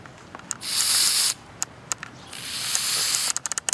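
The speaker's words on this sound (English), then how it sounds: "I'm going to spray carburetor cleaner" Carburetor cleaner sprays onto a rag in two sustained hissing bursts, the first about a second long and the second longer, with small clicks and taps between them and a quick run of clicks at the end.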